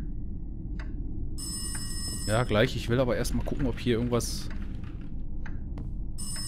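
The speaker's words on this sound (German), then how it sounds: "Und jetzt geht das Telefon." A telephone rings in the horror video game Locked Up, with a steady, repeating electronic ring running through the scene while someone talks over the middle of it.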